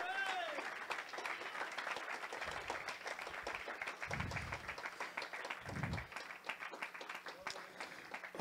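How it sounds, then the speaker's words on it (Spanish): A church congregation applauds at a Spanish-language service, a sustained patter of many hands clapping under a preacher's voice and a few low thumps. "Si le da un aplauso, dele ese aplauso más fuerte al Señor."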